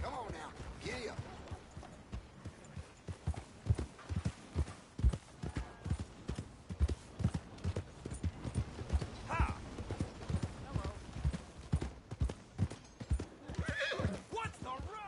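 Horse hooves in Red Dead Redemption 2 clop in a steady, close galloping rhythm for the whole stretch, with an occasional whinny and voices talking over them.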